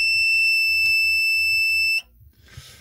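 A homemade metal detector module emits a loud, continuous shrill electronic beep that cuts off abruptly after two seconds, followed by faint handling noise.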